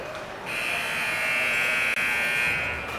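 A loud, sustained end-of-period buzzer at a youth hockey game in an arena, blaring steadily for about two and a half seconds before cutting off.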